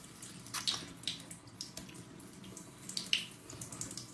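Running tap water splashes as a face is rinsed after exfoliating, with uneven close-up gushes and splatters from cupped hands.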